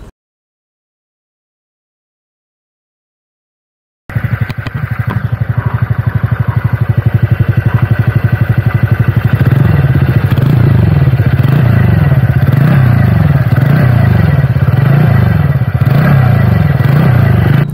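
Engine of a TVS Ntorq Race XP 125 scooter while riding, starting after a few seconds of silence with a steady hum that grows louder and rougher, pulsing as the throttle rises and falls, with wind and road rattle.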